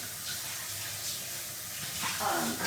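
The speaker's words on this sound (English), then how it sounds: "I'm just rinsing it out really, really quickly" Tap water runs steadily into a Vitamix blender jar during a quick rinse, a constant close splashing rush that swells slightly toward the end.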